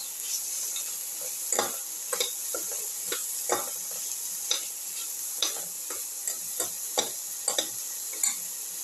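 Cauliflower, tomato and rice soup being mixed with salt in a pot, close sizzling under a regular series of spoon clicks and scrapes against the pot, about one every half second, with no talking.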